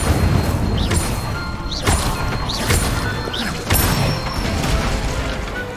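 Incendio fire spells cast in Hogwarts Legacy, a series of loud whooshing bursts and crashing impacts about once a second, each followed by a short rising magical tone, over a rumbling game backdrop.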